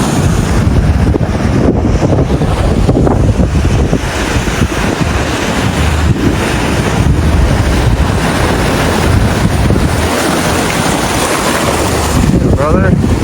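Hurricane Erin drives heavy surf and strong wind onto the US East Coast beaches and dunes, a loud, continuous roar of breaking waves with wind buffeting the microphone throughout.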